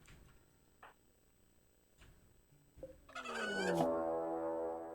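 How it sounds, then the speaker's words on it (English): Chickens in the video game RimWorld: a few faint ticks and clicks lead into a louder, drawn-out fowl call near the end, with no talking. "Oh, they're chickens."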